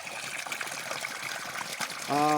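Water from a 10 HP borewell motor pumpset lifting from 600 feet trickles and splashes steadily nearby, a continuous liquid hiss, with a brief voice rising over it at the end.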